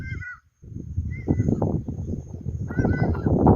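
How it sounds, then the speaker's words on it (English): Loud, harsh cawing calls of a hadeda ibis ring out close by in a South African wildlife setting near a yellow mongoose colony, repeated in raucous bursts with a brief pause between. "That's a harmless water bird, but it could be an alarm"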